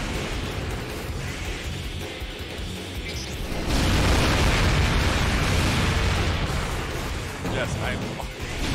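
Grenade explosions from the modded Nineball in a video game rumble through a noisy scene, building into a sustained, loud roaring burst midway before easing back, with a voice present underneath.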